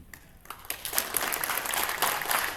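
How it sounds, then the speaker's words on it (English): An audience at a CISO leadership panel in Albuquerque breaks into applause, a dense, steady clatter of many hands that swells after a quiet opening and holds loud to the end. "please give yourselves the loudest round of applause you can"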